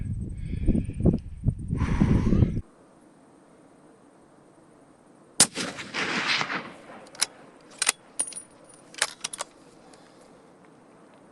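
A rifle shot fired at a Himalayan tahr on a New Zealand alpine hunt cracks sharply and alone after a burst of wind noise, followed by a few scattered clicks and handling knocks.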